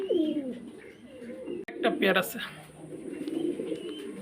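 Pigeons in a breeding loft coo in low, rolling bursts close by, with wing flutters and shuffling, while someone talks over them throughout.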